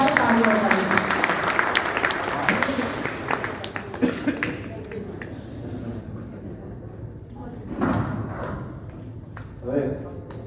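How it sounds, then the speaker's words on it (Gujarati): Audience clapping together at a community event honoring students: a dense burst of applause that thins out within a few seconds, then a person talks over the quieter room. "તો આપણે જોરદાર તાળીઓ કરીએ."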